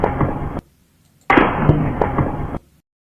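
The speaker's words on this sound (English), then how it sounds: "this is the sound of the gunshot echoing off buildings" Gunshot echoes rebounding off buildings and other large objects at an outdoor event, two broad bursts of booming, reverberant noise separated by a short silence, loud and distant-sounding with no voices.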